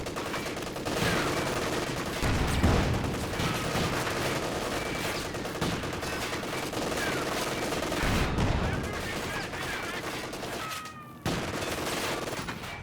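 Panzer 4 tank's upgraded machine gun firing in Company of Heroes 2 gameplay, sustained loud bursts of gunfire amid battle noise with heavier blasts, running nearly the whole time before a brief drop near the end.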